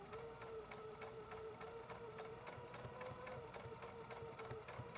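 A sewing machine stitches dart lines through quilting fabric and batting for an ice cream pint cozy, running in a steady, even whir of rapid needle ticks from start to finish.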